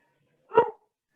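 A single short dog bark, fairly faint and heard alone against silence.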